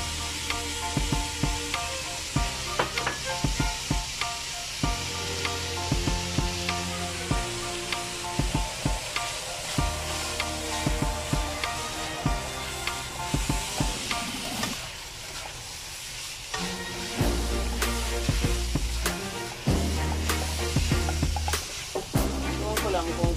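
Ground pork and carrot sizzle steadily in a frying pan while being stirred, with repeated scraping stirs over a constant hiss and occasional talk.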